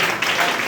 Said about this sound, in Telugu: చేతుల పైకి చప్పట్లు